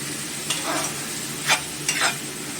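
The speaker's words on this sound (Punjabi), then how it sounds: "ਮਸਾਲਾ ਬਹੁਤ ਵਧੀਆ ਭੁੱਜ ਗਿਆ" Spices frying in a pan with a splash of water, a soft steady sizzle broken by several quick stirring scrapes and hissing bursts; no voices.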